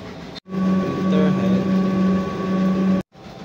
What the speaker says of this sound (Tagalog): Printer head clean.